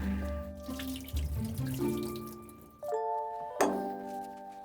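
Dyed fabric samples are rinsed under a running tap at a sink, with water splashing and pouring in shifting tones as the flow changes and cuts in again, close and moderately loud, no voices.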